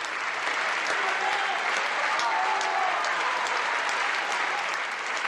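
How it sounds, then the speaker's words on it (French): Sustained, dense applause from a large audience of about two thousand at the Paris Opera, ovating a ballet dancer at her farewell, loud and continuous with faint cheers mixed in, no clear talking. "Isabelle est acclamée, ovationnée par 2000 spectateurs"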